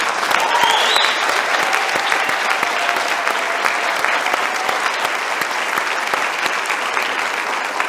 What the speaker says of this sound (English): one last big round of applause for all of these award recipients